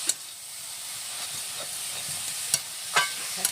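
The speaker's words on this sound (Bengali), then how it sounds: "শাকটা বারবার নাড়তে হয়," Kaloi greens cooked with prawns in watery liquid in a pan, with a soft continuous hiss of steam and sizzle and a few sharp clinks from the stirring utensil.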